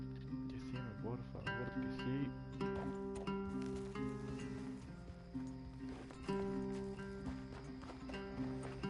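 A horse in the video game Red Dead Redemption 2 clip-clops along with a whinny amid background music, the hoofbeats fairly quiet and intermittent.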